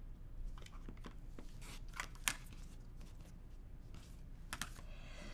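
Scissors snipping through quilting fabric at a sewing table, a series of faint, soft crisp cuts and small clicks spread irregularly over a quiet background.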